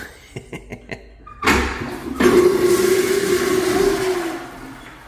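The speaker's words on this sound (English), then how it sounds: "Let's give it a flush, why not?" Old-fashioned pull-handle toilet at the Jack Daniel's Distillery in Lynchburg, Tennessee, flushing loudly after a few light taps, a sudden rushing gush of water that holds steady for several seconds, close by.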